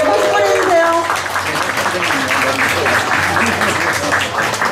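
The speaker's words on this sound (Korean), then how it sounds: "박수 보내주세요" Steady, full applause from a rock 'n' roll concert audience welcomes a returning band member, with a brief stretch of a voice over the opening moments before the clapping continues alone.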